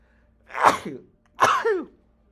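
Two sharp, close sneezes, one after another with a short pause between, each a sudden burst that trails off.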